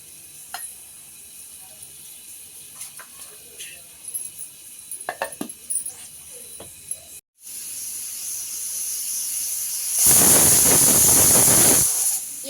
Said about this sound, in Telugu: ఇప్పుడు ఇది ఐదు విసులు అయిపోయిందండి